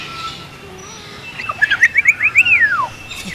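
A bird at a parrot garden gives a quick run of bright, rising and falling chirps. The call is close and clear, comes in about a second-long burst after a quiet stretch, and no one speaks.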